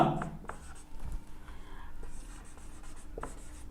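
Chalk or marker writing a math equation on a classroom board, with short scratchy strokes and taps repeating through the stretch, close and fairly soft against faint room noise.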